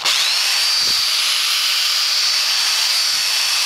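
A cordless drill, smoking from the trigger, whines loudly and continuously at close range, holding a steady high-pitched motor tone throughout.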